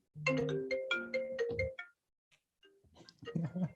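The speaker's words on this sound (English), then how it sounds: "Okay, so maybe put the phone on silence for a second." A mobile phone ringtone plays a short melodic phrase, pauses briefly, then starts again, fairly quiet and with no voices over it.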